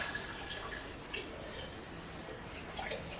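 Hot tap water runs steadily from a kitchen sink faucet into glass canning jars being warmed before filling with beef bone broth, a constant soft hiss and splash with faint drips, no talking.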